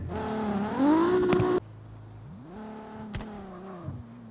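A Toyota Supra MK4 engine in the video game CarX Street revs up and holds a strained whine, cuts off, then revs again more quietly with a rising and falling tone.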